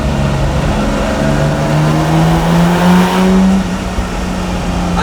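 A Lamborghini Miura SV engine drones loudly while driving, its pitch rising through the gears in a steady climb before easing off, with no voices over it.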